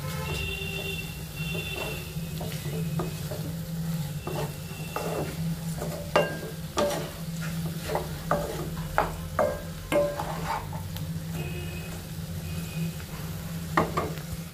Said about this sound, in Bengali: সবকিছু একসাথে ভালো করে মিশিয়ে নেব